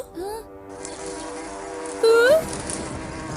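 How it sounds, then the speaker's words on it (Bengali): Cartoon bees buzz around a solar farm, a thin insect drone running steadily under a brief whistling effect, with a character's voice heard in the scene. "মৌমাছি, তাও আবার সোলার ফার্মে।"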